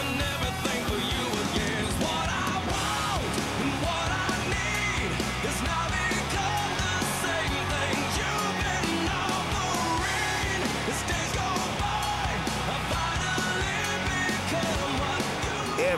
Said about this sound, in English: Every fan in Sam Boyd Stadium was on their feet and screaming from start to finish